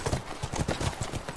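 Horse hooves clip-clop in a steady, even rhythm in a video game, about nine fairly close footfalls in a row, with no talk over them.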